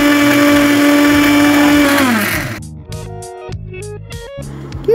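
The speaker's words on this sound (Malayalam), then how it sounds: "ഒരു രണ്ട് ഏലക്കായ കൂടെ ഇട്ട് നന്നായി തന്നെ മിക്സിയിൽ ബ്ലെൻഡ് ചെയ്തെടുക്കാം" A kitchen mixer grinder blends sugar with cardamom pods, a loud, steady high-pitched whir that winds down and stops. Scattered clinks and rattles follow.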